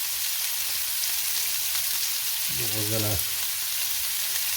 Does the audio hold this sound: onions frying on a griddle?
yes